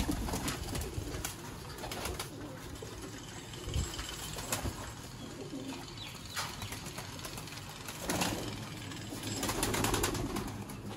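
Sialkoti pigeons at a seller's loft in Sialkot coo against a busy, noisy background. The soft coos repeat irregularly and are joined by occasional wing flutters.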